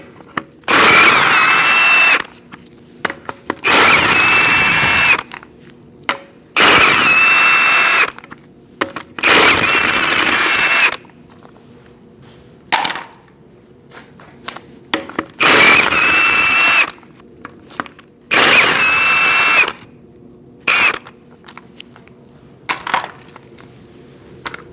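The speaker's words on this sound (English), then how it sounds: "Using a 19mm socket, we're going to remove our wheel." Impact wrench on a 19mm socket removing lug nuts from a Chevrolet Colorado wheel, six loud, close rattling bursts of about two seconds each with short pauses and small clinks between them.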